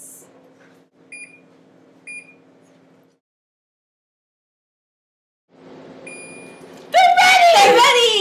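An oven timer beeps twice in short electronic tones over a quiet hum, then after a pause a third beep sounds before a loud voice breaks in near the end.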